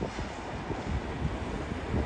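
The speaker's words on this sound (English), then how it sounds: "Oh, and there's a train pulling in." A train pulls into Copenhagen Central Station, heard as a low, steady rumble mixed with wind noise across the microphone, with no clear individual sounds standing out.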